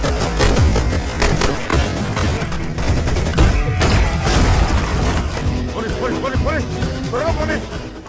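Bursts of gunfire and crashing impacts as British troops battle a band of robbers in the film Captain Miller, a loud, dense mix with shouting voices and music layered throughout.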